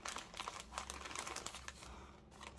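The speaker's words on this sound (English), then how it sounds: "I'm just flicking through this tub, which is where I keep my tickety typed things" Fingers flick quickly through a tub of small typed paper pieces, producing a faint, rapid papery rustle and clicking that continues throughout at low volume, with no voices.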